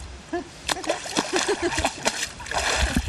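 A Florida manatee splashes the water at a wildlife park in a few quick, soft splashes and sloshes, close by, with background voices.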